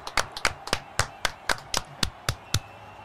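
A small group claps in a loose, uneven rhythm for a player at an amateur football match, about a dozen sharp close claps over a few seconds with faint talk in the background.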